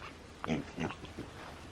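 Pigs grunt near a garden harvest, giving a few short, soft, low snorts spaced about a quarter second apart under faint outdoor background noise.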